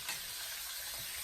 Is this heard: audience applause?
no